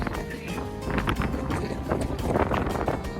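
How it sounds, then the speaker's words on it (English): Strong ocean wind gusts through a windswept coastal passage between cliffs, a moderately loud, continuous buffeting roar with fluctuating gusts and no talk. "Ocean winds flow through this passage, intensify and become more noticeable."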